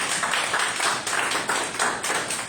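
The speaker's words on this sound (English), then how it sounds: "let's give a round of applause to the panel" Audience applause for a discussion panel at a town hall meeting, a dense, steady wash of many hands clapping at close range for the whole stretch, with no voices over it.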